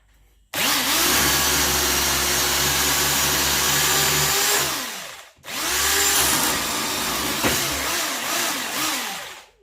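A Parkside PSBM 750 B3 hammer drill runs at maximum speed in two long loud bursts, a steady close whine with a short stop between them, and nobody speaks.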